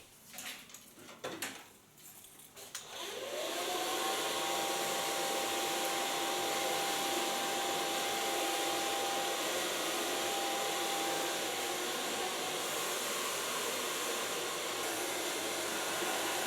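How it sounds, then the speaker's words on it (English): A hair dryer starts up and runs at a steady, loud whine for most of the clip while hair is blow-dried with a medium round brush, after a few brief handling knocks at the start. "And go blow drying with a medium brush."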